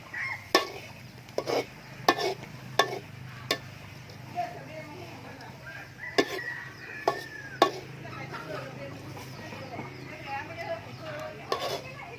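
Ingredients dry-roasting in a pan, with sharp scrapes and clanks of a utensil stirring at irregular intervals over a faint steady background, while someone talks throughout.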